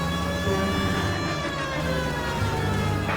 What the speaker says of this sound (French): Avec la sirène quand même, hein.